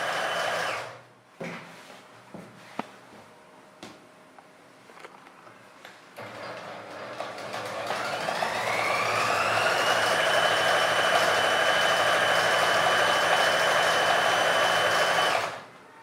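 An electric sewing machine stitches a trouser hem. A few light clicks and handling noises come first, then the motor rises to a steady, continuous hum that runs for several seconds before stopping abruptly.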